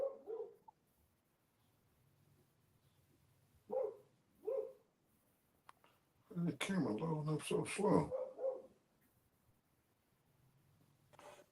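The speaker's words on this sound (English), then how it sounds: "That sound like a big dog." A big dog barks in a short cluster of rough, fairly loud barks, set between stretches of people talking.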